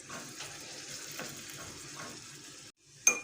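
Butter and oil sizzle in a pan as something is sautéed for a soup sauce, a soft, steady frying hiss with occasional stirring scrapes, ending with a brief sharp clink.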